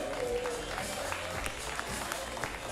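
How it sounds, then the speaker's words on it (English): An audience at a live comedy show claps and murmurs in a steady wash of applause with a few voices mixed in. "Just round of applause for you."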